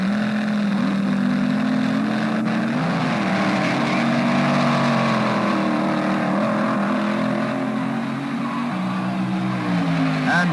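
Gene Snow's Dodge Dart and Jim Wofield's Ford-powered dragster race side by side at the 1967 NHRA US Nationals in the Super Eliminator class, a loud sustained engine roar with a shifting pitch that continues to the end.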